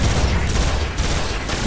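Rapid gunfire roars in Destiny, a dense continuous barrage of overlapping shots that stays loud and steady throughout the short stretch.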